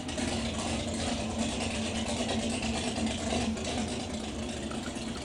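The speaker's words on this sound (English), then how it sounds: "It has the default engine sounds." 2015 Barbarian monster truck in Rigs of Rods with its default engine sound, a steady droning idle that holds at an even loudness throughout with no speech.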